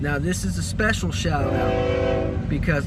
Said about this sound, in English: oh man, I'm sorry about this train.